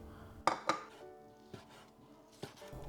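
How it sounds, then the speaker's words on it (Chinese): A knife chops soaked, squeezed-dry shiitake mushrooms into strips on a cutting board, giving two sharp close knocks early on and a couple of softer ones later, over a quiet room background. "挤干水分，切丝。"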